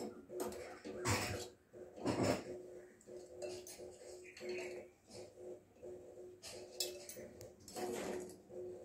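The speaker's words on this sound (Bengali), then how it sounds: "আর ডিমগুলো এবার এখান থেকে তুলে আমি এটার মধ্যে রাখছি একে একে।" Boiled eggs set one by one into a bowl of ice water, giving a series of light clinking and knocking sounds against the bowl spread across the clip, with faint background noise and no talk.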